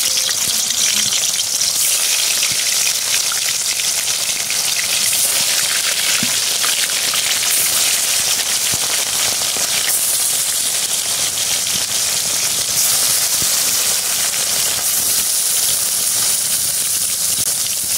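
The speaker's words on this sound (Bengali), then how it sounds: "এই তো আমার মাছ ভাজা শেষ।" Fish frying in hot oil in a home kitchen, a loud continuous hiss and sizzle that carries steadily for the whole stretch with no talking.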